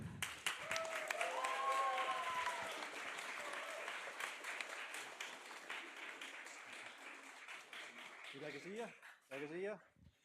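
An audience at a game jam event breaks into a long, dense round of applause, loud and steady at first and then gradually thinning, with a voice talking over it near the end.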